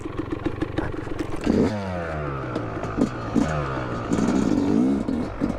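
A two-stroke dirt bike is kickstarted and revved hard, its engine pitch sweeping up and down in repeated throttle bursts with mechanical clatter, loud and close.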